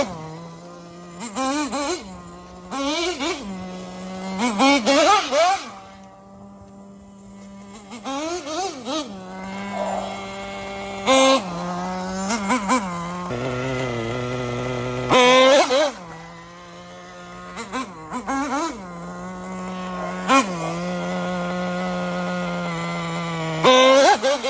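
Nitro-powered Traxxas Rustler RC truck engine screaming at high revs, rising and falling repeatedly as the throttle is blipped and released, loud and continuous throughout.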